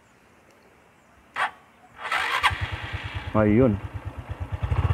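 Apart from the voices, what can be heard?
Honda RS 125 motorcycle engine starting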